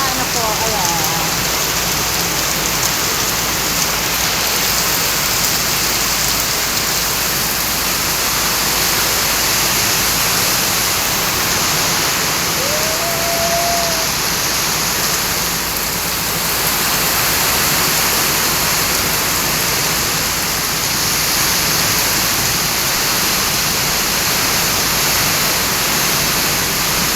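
Heavy rain pours steadily and loudly onto a garage area during a windy afternoon storm, a dense continuous hiss with no break, with a brief faint voice-like sound partway through.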